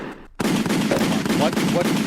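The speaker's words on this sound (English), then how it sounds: "Give me the gunshots." A burst of gunshot sound effects starts abruptly and keeps firing in rapid, loud bangs for under two seconds, with a voice faintly audible in the background.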